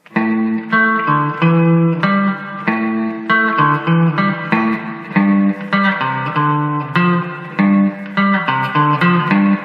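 A twangy electric surf guitar plays a bright melody in even, on-the-beat notes, clear and alone.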